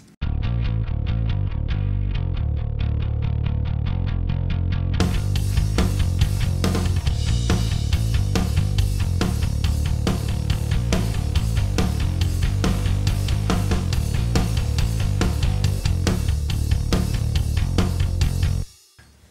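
Bass guitar played through a Softube Amp Room bass preset with an added compressor, giving a distorted, punchy vintage tone. A steady, loud riff of repeated driven notes runs continuously for about nineteen seconds, with a brighter, fuller texture joining after the first few seconds.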